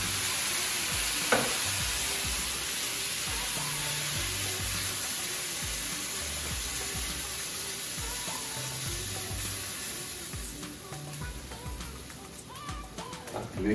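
Meat sizzles and fries steadily in a pan, a continuous close hiss with some stirring and scraping, with no talk over it.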